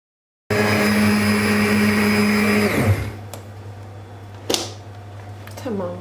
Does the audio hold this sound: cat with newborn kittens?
no